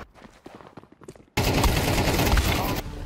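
Rapid bursts of automatic gunfire from a Counter-Strike 2 match: a stretch of dense, sustained shooting that starts abruptly after a short spell of quieter activity and stays loud to the end.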